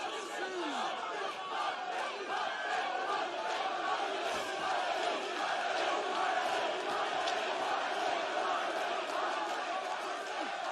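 Crowd at a strongman boxing grudge match between Thor and Eddie Hall, a dense steady roar of many voices and shouts filling the whole stretch at constant level, with no pauses.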